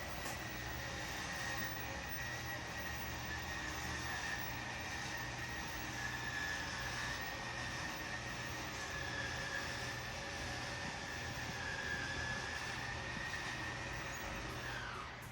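Electric Schwintek slide-out motor extending the room on a 2021 Keystone Fuzion 427 RV, a continuous steady mechanical whine and hum over low rumble, moderately near, no talking.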